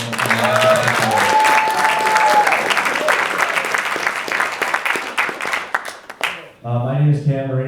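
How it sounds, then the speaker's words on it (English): Loud audience applause at a high school incubator pitch night, honouring Ms. Ingersoll, with a few voices and cheers over the clapping; it fades near the end and speech takes over. "it would be very fair to get a round of applause for Ms. Ingersoll"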